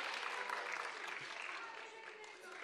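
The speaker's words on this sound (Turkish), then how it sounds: "oradan bir emekli tek başına alkışa başladı" Applause rises at a political rally where a pensioner in the crowd starts clapping, heard faintly as a distant steady clatter mixed with crowd murmur and voices.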